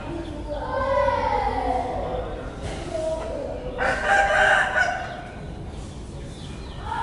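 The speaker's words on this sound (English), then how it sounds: "In the mornings you hear the roosters a lot." Roosters crow twice nearby in the morning in Pattaya, Thailand, a drawn-out call early on, then a harsher, louder crow, over soft background noise.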